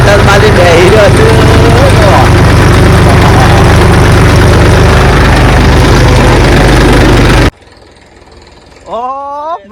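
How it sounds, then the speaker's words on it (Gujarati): A loaded tractor engine drones steadily and loudly at a low pitch while driving home from the farm, then cuts off abruptly, leaving quieter background with a brief sliding tonal sound near the end. "હવે ટ્રેક્ટર ભરીને ઘેર હેડ્યા છીએ"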